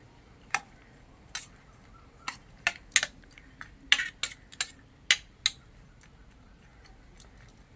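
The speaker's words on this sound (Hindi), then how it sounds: "दही छुई की पूरा भल से मिसेई दवा।" Curd is mixed with drumsticks in a bowl, heard as sharp, irregular clinks and taps of a spoon against the dish, close and distinct over a quiet background.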